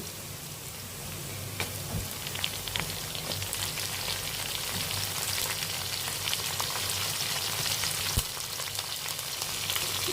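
Green chilies frying in hot oil for bagara rice, a steady dense sizzle and crackle with scattered pops, close and continuous throughout with no voices.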